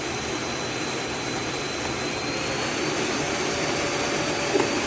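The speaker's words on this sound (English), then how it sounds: "it's nowhere near as noisy as my old vacuum" A Eureka WhirlWind bagless canister vacuum cleaner with a 2.5-litre capacity runs on its high setting, a loud, steady whooshing roar with a faint whine that holds unchanged throughout, close by and without talk.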